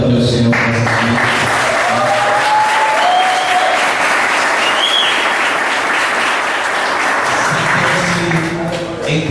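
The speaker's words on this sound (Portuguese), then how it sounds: "Vamos aplaudir o Senhor por essa vida." A church congregation applauds together during a worship service, loud sustained clapping from a large crowd that fills the room steadily for several seconds with a faint voice beneath it.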